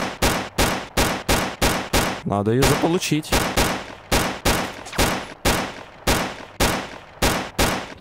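Rapid gunfire in the video game STALKER: Clear Sky, Yermak: Redemption mod, with loud shots in a steady fast rhythm and a short pause midway where a voice speaks briefly.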